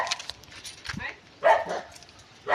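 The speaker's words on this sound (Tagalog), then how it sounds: "May aso eh." A dog at a relative's newly built house in the Philippines gives a few short, sharp barks and yips, with people talking nearby.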